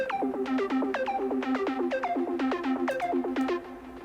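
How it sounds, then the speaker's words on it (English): A synth arpeggiator in a synthpop production fires quick, bright plucked notes in a rapid rhythmic pattern, each with a sharp downward-bending attack, clear and upfront for about four seconds. "So this gets an arpeggiator enabled, which sounds like this."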